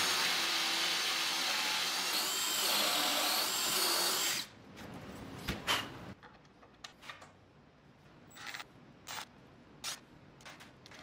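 A power drill bores holes for full inset Euro style cabinet hinges using a Kreg hinge jig, whirring loudly and steadily for about four seconds, then stopping and giving way to scattered light clicks and taps.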